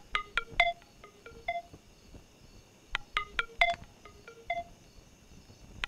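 Telephone keypad dialing, played in two quick bursts of about half a dozen DTMF tones each with a short pause between them, clear and close with no talk.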